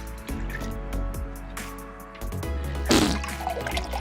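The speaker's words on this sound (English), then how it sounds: "in this next beaker, I'm gonna add just a little bit of water and a splash of ammonia" Water and a splash of ammonia poured into a beaker, heard as a close, steady trickle and slosh that swells into a louder splashing pour near the end, with no talking.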